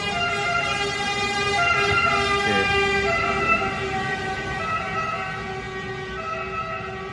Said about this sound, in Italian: Aspettate che c'è la sirena.